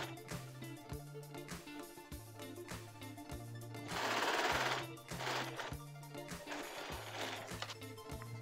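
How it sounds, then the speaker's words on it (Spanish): A sewing machine stitches a zigzag seam along the side of a blouse, starting from the sleeve hem. It gives a steady, rhythmic mechanical rattle, with a louder whirring burst midway, and no talk over it. "Ahora vamos a coser por todo el costado, empezando desde el orillo de la manga."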